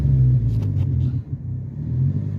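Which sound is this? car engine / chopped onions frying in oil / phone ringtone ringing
car engine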